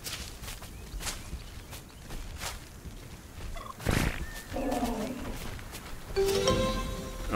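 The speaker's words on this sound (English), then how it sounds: "We got turkeys" Turkeys gobble in PixARK, a survival crafting video game: rapid, rattling gobble calls in the middle of the clip, set against noisy ambience with scattered footstep-like thumps and a faint tonal chime near the end.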